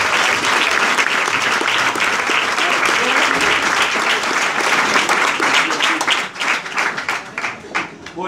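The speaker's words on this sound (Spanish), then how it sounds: "un fuerte aplauso para Carlos Carmona" Loud, sustained applause from an audience at a Pecha Kucha talk event for Carlos Carmona, a dense wash of clapping that thins and tapers off toward the end.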